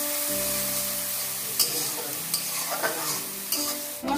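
Ground spices frying in oil with fried onions and ginger paste for a katla fish curry, a steady close sizzle with a few sharp stirring scrapes and clinks, alone.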